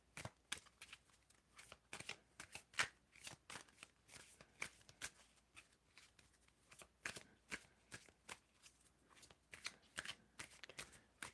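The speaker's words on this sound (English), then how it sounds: "Please tell me when to stop shuffling." Tarot cards are shuffled close by in soft, repeated bursts of riffling and sliding, with short pauses between handfuls.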